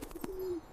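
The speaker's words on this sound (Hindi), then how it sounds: "Pigeon" A single soft pigeon coo, a brief low hum that swells and fades in under a second, faint and alone.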